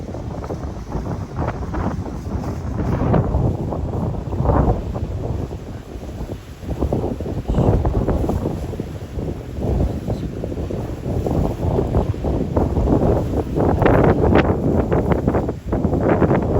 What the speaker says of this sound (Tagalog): Nagsishake yung aking phone sa ano, sa hangin. Super lakas ng hangin.